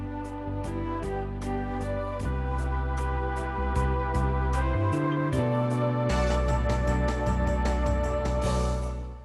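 Electronic keyboard playing a song-style accompaniment with steady backing chords and a regular rhythmic pulse, a brighter trumpet-voice fill-in rising over it toward the end, loud and continuous with no talk.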